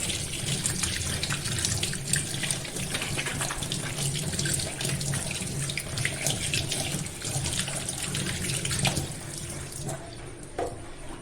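A kitchen or bathroom tap runs in a steady, close rush of water as hands lather and rinse with homemade neem and turmeric soap, continuing alone for the whole stretch.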